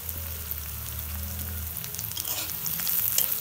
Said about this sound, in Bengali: একটু ভাজা ভাজা করি।